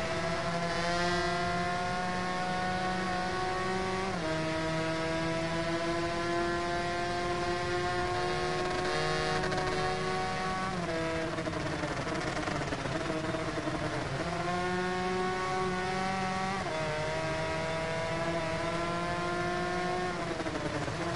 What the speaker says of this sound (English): it sounds different when I can hear the engine and all the other engines whining.